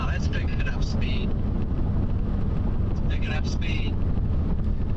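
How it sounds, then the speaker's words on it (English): Gusty storm wind buffets the microphone in a continuous loud roar during a tornado chase in Nebraska, with faint chirping above it. "I'm feeling the gusty winds now. That's picking up speed."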